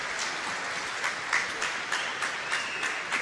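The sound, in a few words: crowd applauding Czech bronze medalists at curling championship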